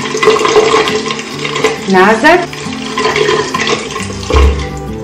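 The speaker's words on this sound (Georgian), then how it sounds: "ეხლა კი ვრეცხავ თითოეულ ფუნჯს გამდინარე წყლის საშუალებით, თბილი წყლის მეშვეობით" Paint brushes rinsed one by one under warm running tap water, a steady close rush of water with soft handling splashes throughout, while someone speaks briefly over it.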